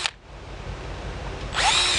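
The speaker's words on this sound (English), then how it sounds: "We're going to drill that right in the top." Power drill boring a small hole into the top of a plastic septic tank outlet baffle elbow, a brief burst at the start, then low motor hum, with a louder, higher whine of the bit cutting through near the end.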